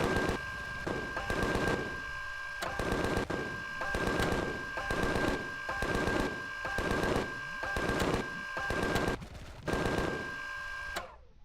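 An assault rifle in the space survival game Empyrion fires in regular short bursts, about a dozen rapid automatic volleys close by in a steady rhythm over a constant electronic hum, then stops abruptly.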